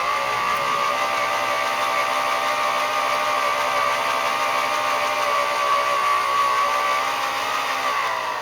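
A Mittler Brothers beading machine for sheet metal, variable speed, runs steadily and close with a continuous motor whine and mechanical drone, holding an even level throughout with no speech.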